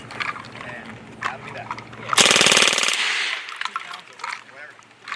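An automatic gun at a shooting range rips through a fast 32-round burst, a loud, rapid, evenly spaced string of shots lasting under a second, with people talking before and after.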